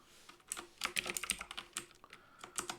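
Fast, uneven clicking of keys on a computer keyboard comes in quick bursts, close and clear, with no talking.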